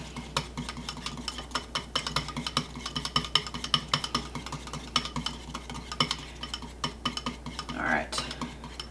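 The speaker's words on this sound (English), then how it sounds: "Now mix our yolks and butter." Egg yolks and butter are stirred together in a bowl for a homemade pancake mix. A utensil clinks and scrapes against the bowl in a quick, irregular rhythm, close and fairly quiet, with a brief rustle near the end.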